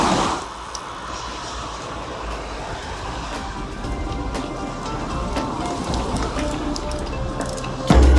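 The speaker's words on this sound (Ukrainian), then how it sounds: "Абсолютно неочікуваний дощ, небо все затягнуло" Steady rain in Spain hisses and patters continuously, a broad even wash of sound with a few sharper drops and no talking.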